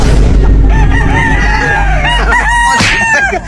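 A rooster crows close by on a Filipino farm, drawn-out wavering calls rising and falling, with hens clucking around it and a steady low rumble of background noise underneath.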